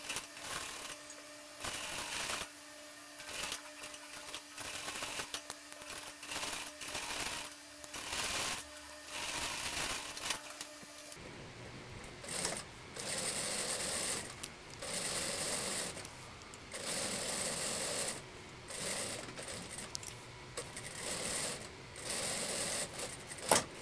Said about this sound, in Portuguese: Vou aproveitar e também colocar um guia aqui pra me ajudar a fazer essa costura bem retinha